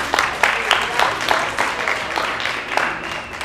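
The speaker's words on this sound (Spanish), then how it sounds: "un aplauso" Scattered applause from a small group at the close of a porcelain painting class, uneven claps over a steady murmur of voices, fairly close and moderately loud for about three seconds.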